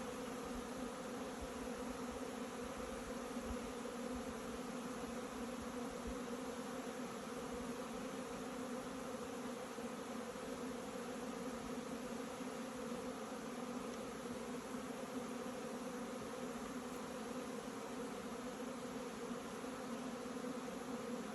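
A steady, dense hum of many honeybees buzzing continuously at a hive in March, a soft drone that stays even throughout.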